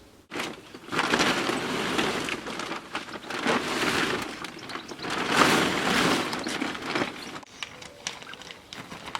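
Rain falling outdoors at an allotment: a steady, dense patter on surfaces that swells and fades in waves, close and fairly loud throughout.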